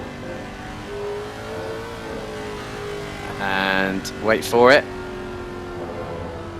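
A GT race car engine drones in a sim racing game at Imola, then rises and falls in a few quick revving surges, under a commentator talking.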